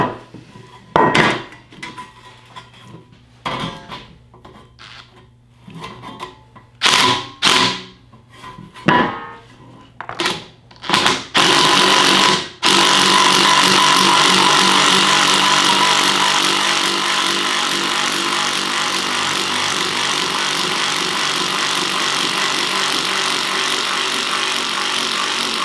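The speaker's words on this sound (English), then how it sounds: "let's run it on the 18 gauge real quick just with the impact to see if it can cut through that with an impact." A Dewalt shear attachment on an impact driver works through 18 gauge sheet metal, first in loud stuttering bursts and sharp hammering clatters, then in a long, continuous harsh grinding roar close by.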